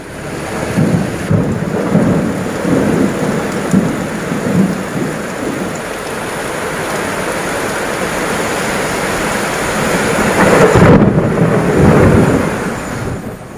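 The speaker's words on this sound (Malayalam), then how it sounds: "കണ്ണൂരിലെ മലയോര മേഖലയിൽ ശക്തമായ ഇടിയും മഴയും" A strong thunderstorm over the hilly areas of Kannur, Kerala, brings a continuous wash of heavy rain, with deep rolling thunder swelling early on and again near the end.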